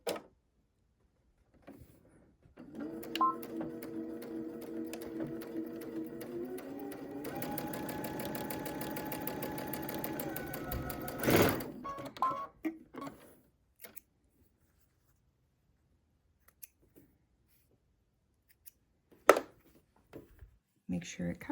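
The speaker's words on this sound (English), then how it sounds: "I'm going to sew corner to corner" Home sewing machine stitching a fabric scrap corner to corner for a fabric pumpkin, a steady close whir that rises in speed midway, then stops, followed by a few soft handling clicks.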